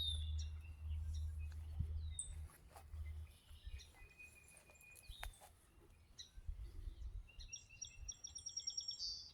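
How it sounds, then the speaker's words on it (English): A small bird sings from high in a tree along a nature trail, its faint, scattered chirps and tweets carrying over a low outdoor wind rumble, with no one speaking. "He's just sitting there singing."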